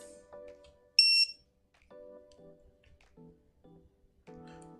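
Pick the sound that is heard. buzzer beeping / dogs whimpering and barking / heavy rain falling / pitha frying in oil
buzzer beeping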